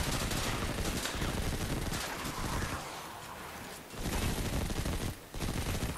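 Dense rapid gunfire from the video game Destiny 2 on PS4, loud sustained bursts of automatic shots that pause briefly near the middle and again toward the end, then resume.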